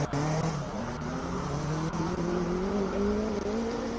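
A Honda VTEC Type R races up the Simola hillclimb with a loud, close engine note that climbs steadily in pitch as it accelerates, over a trace of tyre noise.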